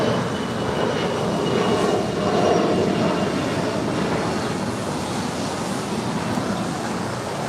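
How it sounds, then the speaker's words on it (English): An Air Canada Airbus A320 arriving at LAX on a flight from Toronto produces a steady, broad jet roar that swells slightly and then holds at a constant level throughout. "It's Air Canada flight 785 coming in from Toronto. It's an A320."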